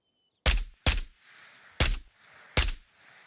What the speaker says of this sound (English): That's still the bot shooting us.